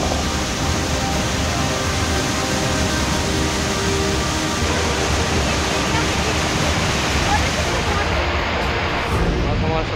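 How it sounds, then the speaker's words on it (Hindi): Torrent of flash-flood water after a cloudburst surges toward a village in Kinnaur's Shalkhar, a loud, continuous roaring rush that fills the whole clip without letup. "किन्नौर के शलखर गांव में बादल फटा तो बस्ती की तरफ सैलाब बह चला।"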